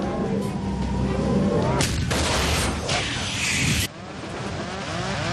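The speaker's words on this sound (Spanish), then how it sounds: "Hubo una explosión muy fuerte y el ruido del aire mientras se escapaba" An explosion tears through an airliner cockpit in a documentary reenactment, with a loud, rumbling blast and a rush of roaring noise that cuts off abruptly into a lower, steady wind-like hiss.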